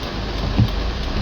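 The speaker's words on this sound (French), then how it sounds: "La pluie qu'il y a dehors, c'est la magie seulement." Rain falls outside as a steady, dense hiss of drops on surfaces, continuous and fairly loud with a faint low rumble underneath.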